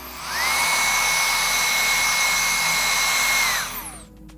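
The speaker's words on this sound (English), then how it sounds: "Blow drying down my dropout." A hair dryer blows steadily for about three seconds while hair is blow dried during a blonde lightening service, a loud, even whine that switches on with a rising pitch and winds down at the end.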